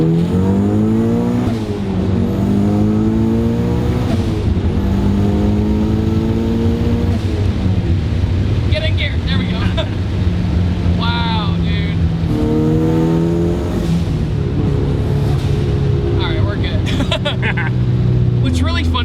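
A small-turbo Mazda Miata with higher compression accelerates hard, the engine note climbing through several rising pulls with gear changes and turbo whooshes, loud and close, with people talking over it.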